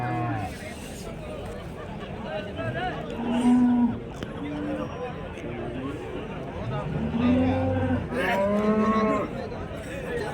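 Several cows moo repeatedly at the Chintamani calf market, some loud and close, others further off, over a steady background of crowd chatter.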